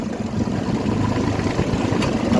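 A Yuvraj tractor engine idles close by with a low, rough, chugging rumble that holds steady throughout, with no talking over it.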